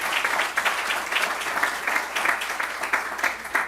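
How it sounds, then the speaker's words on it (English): Audience applause at an Arkansas jobs announcement, a steady broad wash of many hands clapping at moderate loudness, rising and falling slightly without voices. "Let's give them a big round of applause as well."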